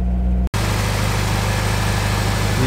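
An Si car engine idles steadily and loudly up close while warming up, a constant low rumble with a brief cut near the start.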